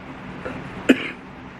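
A single short, sharp cough from a person with a lingering illness, close and fairly loud against a quiet indoor background.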